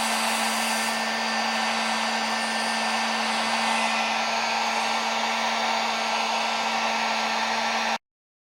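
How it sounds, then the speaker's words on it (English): A heat gun shrinks heat-shrink tubing slid over a wire during a mod converting a Harbor Freight 90A AC welder to DC, giving a steady, close, loud blowing roar with a fixed hum, unbroken and with no talk. "I'm shrinking the shrink wrap with a heat gun."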